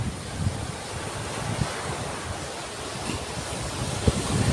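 Heavy surf crashing continuously on Burias Island during a strong northeast monsoon, with gusting wind buffeting the microphone, a dense roar with occasional louder wave impacts.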